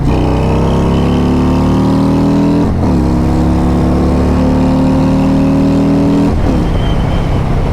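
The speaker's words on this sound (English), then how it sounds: "The exhaust note changed just by doing the stage 1 tune from Screaming Eagle." A 2024 Harley-Davidson Road Glide with a Screaming Eagle stage 1 tune revs hard, its loud, close exhaust rising in pitch through two long pulls with brief dips between them, and no voices.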